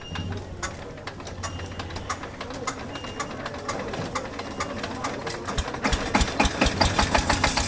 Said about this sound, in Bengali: দেখা যাক এক হ্যান্ডেলে স্টার্ট হয় কি না